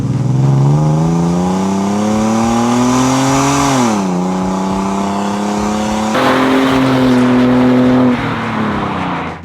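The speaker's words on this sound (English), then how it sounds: "we ran the truck 3 times 0 to 60" A truck with a cold air intake installed accelerates hard from a standstill to 60 mph, its loud engine note climbing steadily, dipping briefly at a gear change, then climbing again before easing off near the end.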